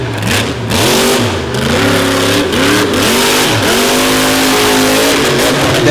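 A monster truck engine at a freestyle show roars loud and close, revving up and down in repeated surges with a steady throaty drone and no talk over it.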